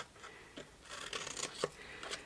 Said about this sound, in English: Let me find a good pair of scissors.